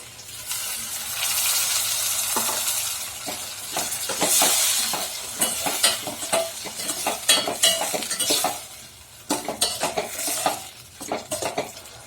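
Chopped tomatoes sizzle in a hot pan while being cooked for an oyster mushroom dish, with a steady frying hiss under repeated scraping and clinking strokes of a spoon stirring against the pan, close up and without talk.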